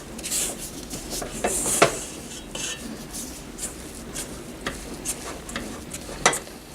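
Gingerbread cookie dough being worked by hand as flour is mixed in, with utensil scrapes, clinks against a bowl and soft stirring rubs in an irregular rhythm, a few sharper knocks standing out, close and moderately quiet.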